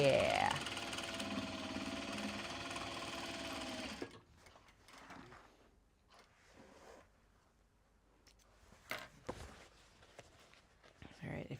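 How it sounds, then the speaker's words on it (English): A sewing machine stitching the wedges of Japanese fabric drawstring bags runs in a steady close whir for about four seconds, then stops. Quiet handling noises and a few sharp clicks follow. "we are currently on sewing the wedges for the Kato bags, both interiors and exteriors"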